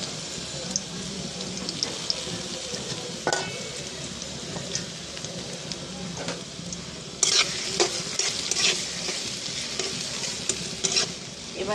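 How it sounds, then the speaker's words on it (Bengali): Onions dropped into hot oil in a wok set off a loud, continuous sizzle, broken by scraping stirs and a burst of louder crackling partway through. "কড়াইতে তেল গরম দিয়ে দিয়েছি। এবার আমি দিয়ে দেব পেঁয়াজ।"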